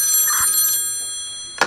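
A telephone rings in a quiet room: one long electronic trill with a sustained tone, then a short second burst of ringing starting at the end, clear and fairly loud, with no talking.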